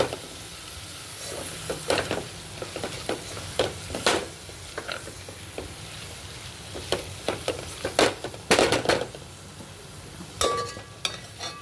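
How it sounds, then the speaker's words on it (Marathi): Goda masala and homemade spice mix stir-fried in a pan for brinjal rice, giving a steady sizzle with repeated scrapes and clinks of a spoon against the pan, close and with no talking. "आता हे पण आपल्याला परतायचंय."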